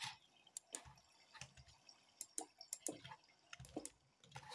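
Water drips inside a Minecraft shipwreck, quiet irregular plinks and droplet clicks scattered across a hushed background, some close together and others spaced apart.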